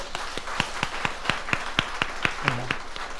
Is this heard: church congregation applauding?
yes